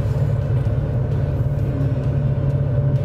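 A Ford Mustang GT drives along with a steady, deep engine rumble and low road drone heard from inside the cabin, loud and continuous with no one talking.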